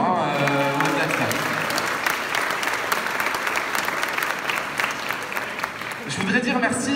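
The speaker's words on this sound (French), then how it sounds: "On peut applaudir Thomas" A room of colleagues applauds Thomas during an anniversary speech, a loud, sustained burst of clapping with some talk mixed in at the start, fading as the speaker resumes near the end.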